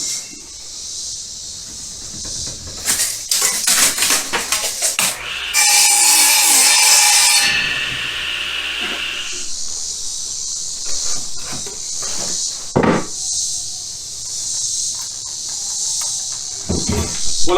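Wood is hand-sawn for a DIY goat hay and pellet feeder, cutting a notch in a board. The rasping strokes come in irregular bursts, with one sustained noisy stretch in the middle. No one talks.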